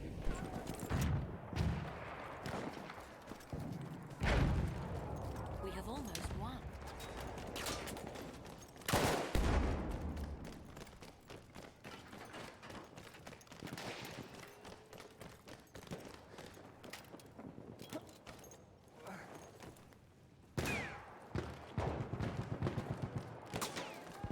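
Gunfire in an online multiplayer match of Battlefield 1, with sharp shots and bursts scattered across the scene amid busy game noise, some loud and close, others more distant, with a few heavy impacts.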